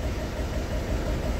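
An Isuzu Crosswind engine idles roughly on a cold start with a low, steady, shaky rumble close by and no break, with no one speaking.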